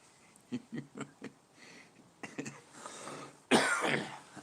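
A person with a dust allergy coughs in a short series of dry, close hacks, then pauses and throat-clears before one louder, harsher cough at the end.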